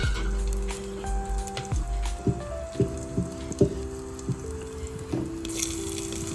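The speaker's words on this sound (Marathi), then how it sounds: "शेंगदाणे थोडे कडकडले ते थोडे फ्राय झाले" Peanuts with ginger and garlic frying in a pan, a steady close sizzle and crackle with scattered pops and clinks of a utensil against the pan.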